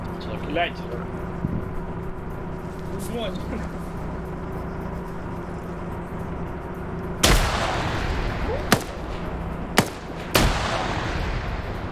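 Several sharp, loud explosive blasts from a grenade in a PvP shooter video game burst one after another in the later part, after a stretch of distant battle rumble and scattered shots, with voices talking throughout.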